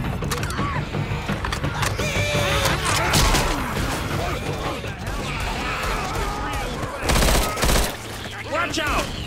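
Constant video game gunfire in Left 4 Dead 2, with dense bursts of shots and crashes running through the whole clip, plus louder blasts near the end. Players shout over the gunfire.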